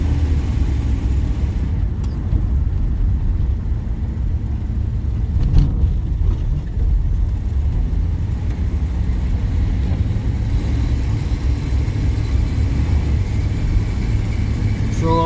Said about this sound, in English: Just taking a little drive